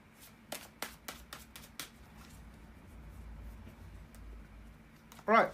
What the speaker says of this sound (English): bear with me guys for a second to shuffle the tarot cards